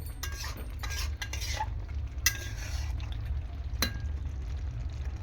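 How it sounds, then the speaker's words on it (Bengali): A spatula scrapes and clinks against a pan while a vegetable curry of pumpkin, potato, chickpeas, pointed gourd and soy chunks is stirred in ghee, with repeated metallic taps and scrapes over a soft, steady low hum, no talking. "আমি খুন্তি দিয়ে নাড়াচাড়া করে নেব"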